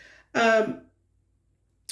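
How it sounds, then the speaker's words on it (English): A single harsh throat-clearing cough, close and loud, followed by silence and a brief cut-off noise at the end. "I'm going to have to cough again"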